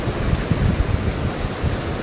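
Huge ocean waves crash against an island off Chiloé in Chile, a steady roar of surf with broad low rumbling and wind noise, loud and continuous with no voices.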